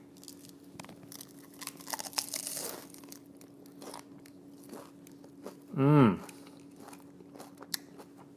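A single loud, close crunch as teeth break through a crispy cheese shell taco with homemade guacamole, a brief sharp crackling burst standing out from quiet room tone, followed by a soft murmur of enjoyment.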